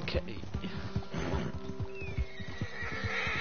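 A horse in Red Dead Redemption 2 neighs and clip-clops along at speed, hoofbeats drumming under a whinny, with a voice talking over the game sound.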